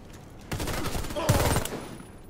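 Rapid automatic bursts from a Magpul FMG-9 folding submachine gun in Warface, firing in dense clusters over roughly two seconds, loud and close, with a louder burst near the middle.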